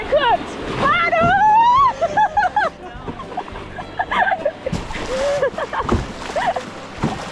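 Raft pushing through serious river rapids, water splashing and sloshing against the hull amid shouting crew voices, loud and close throughout with bursts of spray.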